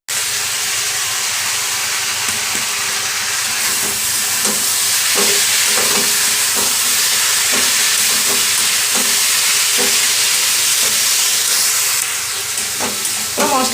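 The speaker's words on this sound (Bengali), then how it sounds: "মশলাটা আমার ভাজা হয়ে গেছে, এবার জল দিয়ে দিচ্ছি।" Ground spice masala with turmeric, chili powder and a ginger-green chili paste fries in a pan for a fish curry, a loud, continuous sizzle overlaid with regular stirring strokes.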